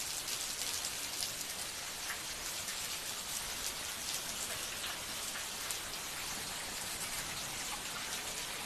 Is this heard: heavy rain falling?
yes